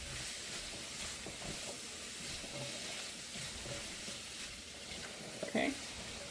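Sugar snap peas and green beans sizzle softly in a hot pan. The hiss is faint and steady, with a few small clatters and a brief knock near the end.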